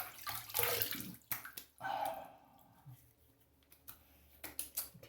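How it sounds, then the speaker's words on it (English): Water splashes up onto a face while wetting it before a wet shave with a razor, giving close, uneven bursts of splashing and dripping with brief quiet gaps between them. "Alright, let me wet the face."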